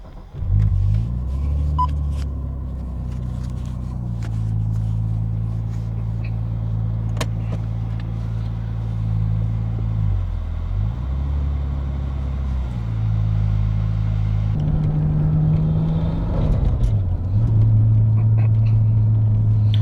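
Nissan Skyline R34 driving around the block with a steady, loud engine rumble that shifts pitch as it moves through gears, with a brief revving surge near the end; no talking.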